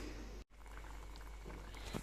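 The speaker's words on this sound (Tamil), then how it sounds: "இப்போ மூடி வச்சு 10 மினிட்ஸ் கொதிக்கட்டும்" Soft, steady bubbling and crackle of a potato and green pea curry simmering in a lidded pot, quiet and continuous with a brief dropout early on.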